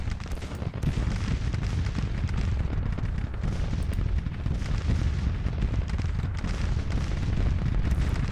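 Massed musket volleys from an infantry brigade in the Civil War strategy game Grand Tactician, a continuous rumbling roar of crackling shots and booms, steady and dense throughout.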